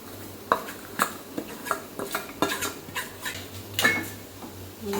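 Jaggery and cardamom powder are stirred into puran in a pot on a lit gas stove, a spoon scraping and knocking against the metal in irregular close taps and clinks, with a low steady hum underneath.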